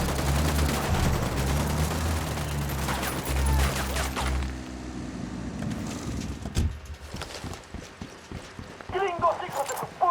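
Dense rapid gunfire and bursts rattle loudly through a tactical shootout in Ghost Recon Wildlands, with shouted voices over the constant shooting before it thins into scattered, sharper shots and clatter.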